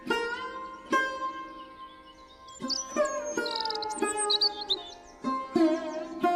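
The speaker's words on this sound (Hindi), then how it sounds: "तभी वहां पर मैना पक्षी आ गई।" A myna bird calls in a series of loud, close chirps, whistles and warbling notes, clear harmonic calls repeating in short bursts over about six seconds with no talk.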